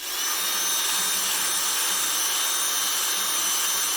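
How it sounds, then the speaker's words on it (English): A power drill spinning a wire brush whirs continuously at high speed, a loud steady whine with a scratchy hiss throughout. "You just put it in a drill."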